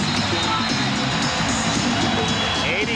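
A basketball arena crowd at a 1994 NBA playoff game between the Denver Nuggets and Seattle SuperSonics cheers on its feet, a dense, steady roar filling the space with a commentator talking over it.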